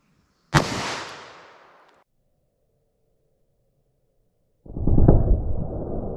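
A single sharp .38 Special gunshot from a 4-inch revolver barrel firing a Fort Scott TUI round into a gel block, loud and close, followed by silence and then a burst of handling noise.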